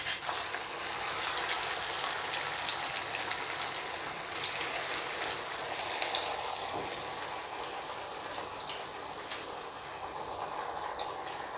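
Veg Schezwan fingers fry in hot oil, giving a steady, dense sizzle and crackle with faint pops, close and continuous without any talking.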